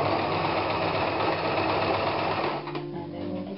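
A sewing machine stitches in a zip, its motor whirring at a fast, steady rate up close before it slows and drops to a lower hum near the end.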